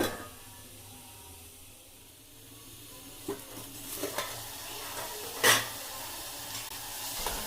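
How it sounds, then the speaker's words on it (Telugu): Tomato pieces cooking with the upma base in a covered pan, giving a soft, steady sizzle and faint steam hiss throughout, with a few light clinks and a louder knock near the end. "టమాటాలు ముక్కలను వేసుకోవాలి ఈ మిశ్రమాన్ని బాగా కలుపుకున్న తర్వాత రెండు నిమిషాల పాటు మూత పెట్టుకోవాలి"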